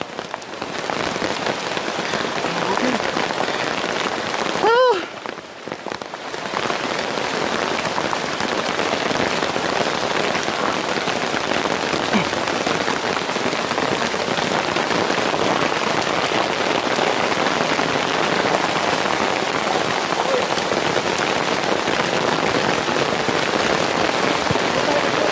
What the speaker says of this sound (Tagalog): Kasi paparating yung malakas na ulan,